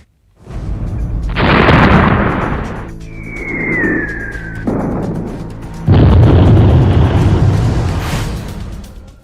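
Loud, booming blasts and bursts of heavy fire from bombardment in the Russia-Ukraine war roll out in waves, with a brief high whistling tone between them and no voices.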